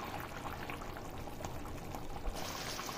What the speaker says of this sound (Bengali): এবার আমি দিয়ে দিচ্ছি ফ্রেশ ক্রিম